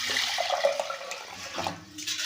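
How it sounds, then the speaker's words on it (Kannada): Water is poured from close by into a pot of washed beans set to boil, a continuous splashing gush that thins and briefly eases toward the end. "ಇಷ್ಟು ನೀರು ಹಾಕೋಣ"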